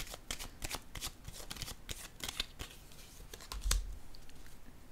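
Tarot cards are shuffled by hand, giving a quick run of crisp riffling flicks followed by a sharper slap as a card is drawn, close and fairly quiet with no voices.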